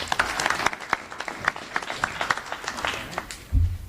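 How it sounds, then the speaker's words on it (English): Audience applause at a high school senior awards ceremony, brisk, dense clapping from a crowd for a few seconds, with a low thump near the end. "let's give a round of applause to Rosie Sicardo."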